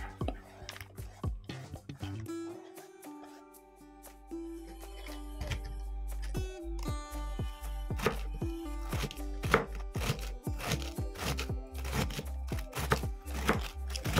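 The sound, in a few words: chopping cabbage with a knife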